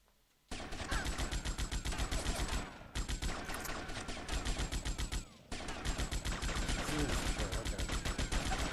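Rapid automatic gunfire in GTA Vice City, a steady loud stream of shots in three long bursts separated by brief pauses.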